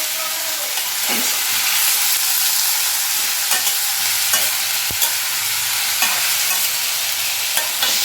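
Food is stirred and mixed in a bowl with a spoon, giving a continuous loud scraping, rustling texture with intermittent light clicks of the spoon against the sides.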